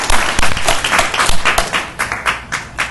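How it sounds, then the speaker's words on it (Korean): A small training group claps for itself at a cognitive skills camp, producing loud, close, brisk applause that settles into a few rhythmic individual claps toward the end. "우리를 위해서 한번 박수 쳐줄까요?"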